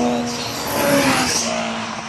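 A Toyota Supra fitted with a 1JZ engine revs at a track, a loud close drone that swells in the middle and then settles back, with no talk over it.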